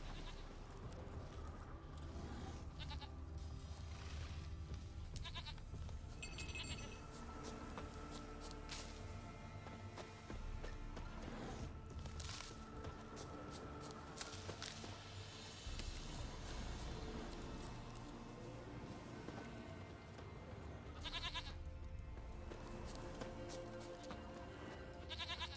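A goat in Witcher 3 bleats repeatedly over about twenty-five seconds, nasal cries recurring at irregular intervals over a low game ambience, with no voices.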